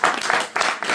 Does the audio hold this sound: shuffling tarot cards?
no